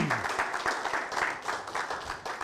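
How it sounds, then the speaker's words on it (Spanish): A church congregation during a Spanish-language sermon gives a brief, fairly quiet round of applause, with scattered rhythmic claps rising and falling. "Dele un aplauso al Señor."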